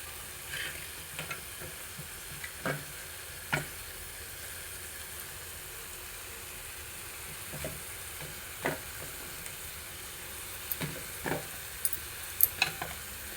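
Peas frying in tomato paste for paneer peas curry give a steady soft sizzle with scattered light scrapes and taps of a spoon stirring the pan, close and unhurried.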